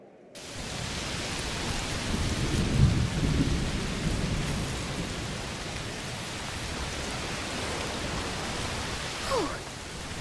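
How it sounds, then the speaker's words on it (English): A thunderstorm with rain in A Plague Tale: Requiem: a rolling thunder rumble builds early and fades over dense, constant rainfall, with a brief swell near the end. "Must be a heat storm."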